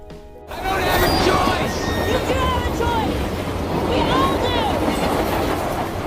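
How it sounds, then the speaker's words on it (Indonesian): A train rushes past nearby with a steady, loud rumble and rattle, metallic squeals rising over the noise, and voices faintly underneath. "kereta yang sedang berjalan dengan cepat"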